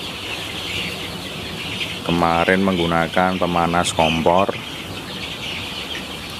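Broiler chickens 26 days old, kept in a brooder warmed by a stove heater, cluck and chirp in a short, loud burst of several calls while someone speaks over them.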